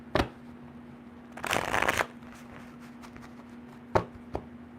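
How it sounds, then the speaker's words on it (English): Tarot cards riffle-shuffled in a burst of about half a second, framed by a few sharp taps and flicks of the deck, close and fairly quiet over a faint steady hum. "So let's get a little shuffle in."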